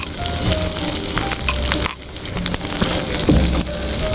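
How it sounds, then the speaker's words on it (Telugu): Chopped onions with cumin sizzle steadily in butter in a pan, a close, continuous frying hiss with scraping stir sounds and a brief dip partway through. "ఉల్లి తరిగి వేసుకుందాం."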